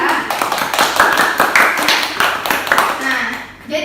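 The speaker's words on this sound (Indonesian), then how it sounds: "tepuk tangan untuk kelompok 2" A class claps for a student group in a lesson, a loud, uneven burst of hand claps that carries on for several seconds and thins out near the end.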